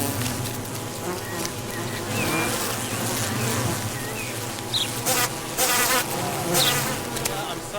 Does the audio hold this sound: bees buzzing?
yes